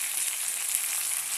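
Green chillies and onions frying in oil, a steady close hiss of sizzling that holds even for a brief moment with no talking.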